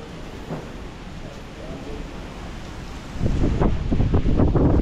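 Strong gusts sweep across a farm in the aftermath of a typhoon, rising into a louder, rougher roar of buffeting wind noise in the closing seconds, with no voices.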